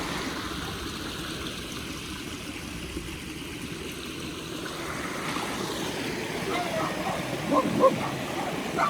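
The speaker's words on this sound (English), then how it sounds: "Oh, the Doberman, he's so excited." An excited Doberman barks in short yips and bow-wows over a steady outdoor rush that sounds like moving water, the barking growing livelier toward the end.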